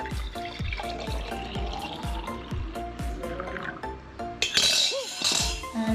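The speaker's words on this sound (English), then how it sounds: "The juice is ready and now I am pouring it into a mug." Homemade cucumber juice poured into a mug, a steady near liquid pour with glassy clinks of the container, filling and trickling close to the mic for several seconds.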